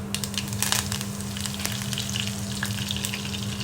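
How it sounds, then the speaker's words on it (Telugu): Curry leaves crackle and sizzle in hot oil for a tender ivy gourd tamarind curry, a dense steady frying hiss with scattered sharp pops, close and continuous with no talk. "ఇప్పుడే దింపుకొచ్చిన కరివేపాకు ఉంచుకొని వేసుకోవాలి"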